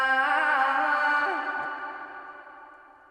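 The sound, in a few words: sample playback with reverb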